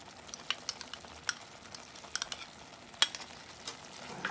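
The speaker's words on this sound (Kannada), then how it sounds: "ಗೋಡಂಬಿ ಪೇಸ್ಟ್ ಹಾಕಿ ಮಿಕ್ಸ್ ಮಾಡ್ಕೊಳ್ಳೋಣ." Cashew paste is stirred into a sizzling paneer butter masala gravy in a pan, with a steady soft frying hiss and scattered scraping clicks of the spoon, close and fairly quiet, with no voices.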